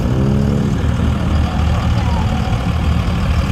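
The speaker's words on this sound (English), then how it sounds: "got a diesel engine in his Mustang" A diesel-engined Ford Mustang drives past at close range, its loud engine rumbling steadily throughout, with voices audible around it.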